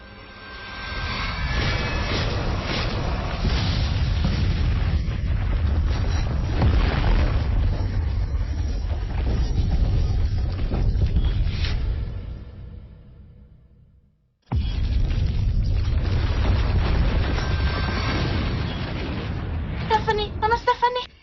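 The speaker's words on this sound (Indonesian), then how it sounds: "Gunung ini benar-benar meledak." A mountain erupts in a sustained, roaring blast, a heavy low rumble that rolls on for several seconds, fades, then returns just as loud after a brief silence.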